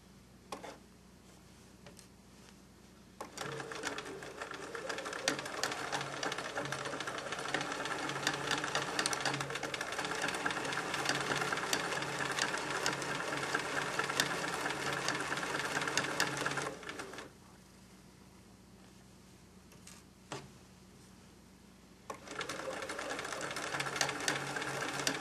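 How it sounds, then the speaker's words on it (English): Sewing machine stitching a fleece blanket with a 1-inch seam runs in two bursts, a fast steady mechanical rattle for about fourteen seconds, a pause, then starting again. "After you are done pinning, you can now start sewing. You need to sew with a 1-inch seam."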